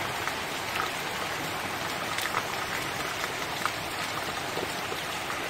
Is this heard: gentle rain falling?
yes